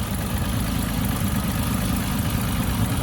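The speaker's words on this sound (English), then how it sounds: "The engine just purrs." A 1928 Hupmobile Victoria engine idling close by, a steady smooth low rumble with even vibration and no change in pace, heard alone without talk.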